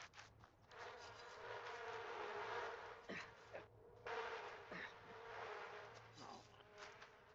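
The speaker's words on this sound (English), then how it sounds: "I know, I think the bees are trying to attack me." Bees buzzing in The Sims 4, a dense, continuous insect drone that swells and dips over several seconds, with brief breaks and flickers in the hum but no talking.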